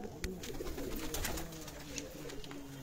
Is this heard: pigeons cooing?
yes